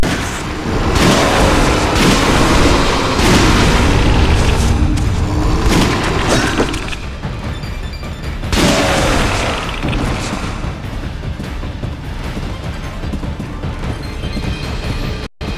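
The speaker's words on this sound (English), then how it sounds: "Fireworks." Fireworks bursting in a Resident Evil game, a dense run of booming blasts and crackling pops that go on without a break, loud and close.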